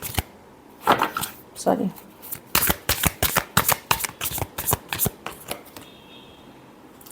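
Tarot cards being shuffled by hand, a series of sharp crisp riffles and taps in an uneven rhythm, close and fairly loud, with a brief spoken word near the start.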